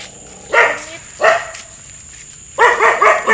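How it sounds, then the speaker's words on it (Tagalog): Dog barking outdoors in a village street, three separate bursts of barks with the last a quick double or triple, fairly close and loud, with a faint background whine. "Ay, may aso din dun"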